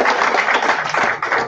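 Audience applause at a poetry booklet presentation, a dense steady wash of many hands clapping close and loud throughout, with no talking over it.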